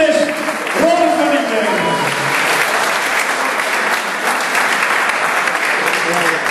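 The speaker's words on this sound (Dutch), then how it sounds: "Dames en heren, geef ze nog een applaus." Sustained applause from an audience at a Dutch final match, dense and loud clapping throughout, with a voice speaking over the start.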